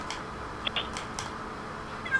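A cat in a survival video game gives a few brief meows over a steady background hum, with faint clicks nearby.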